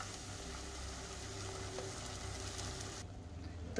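Tomato puree goes into browned onions frying in a pan for paneer lababdar, giving a faint, steady sizzle and bubbling that runs evenly throughout before cutting off near the end.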